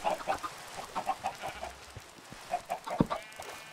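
A Minecraft chicken clucks in quick, soft bursts, several clucks in a row, with a sharper single sound near the end.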